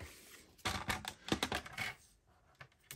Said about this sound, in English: Just grab your trimmer.